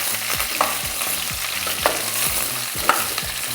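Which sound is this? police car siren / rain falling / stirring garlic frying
stirring garlic frying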